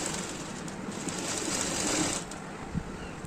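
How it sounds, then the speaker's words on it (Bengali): A sewing machine runs steadily for about two seconds, stitching fabric for a square-neck maxi nighty, then slows and stops with a soft clunk, heard close and alone. "এরপরে একটা মোড়ে সেলাই দিয়ে নেব।"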